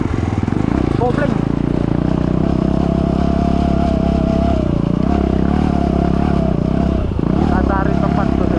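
A Kawasaki KLX motorcycle with a slipping clutch runs with a loud, steady, close engine drone that barely changes in pitch, while voices talk over it.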